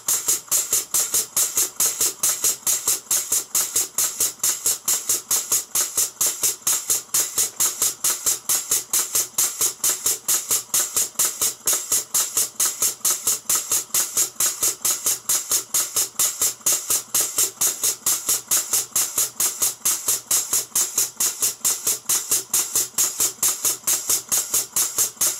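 A Southworth 12-inch horizontal boiler feed pump, run on compressed air, chugs in a fast, steady rhythm of short puffs and hisses, running continuously without a pause for the whole stretch, with a slight blow.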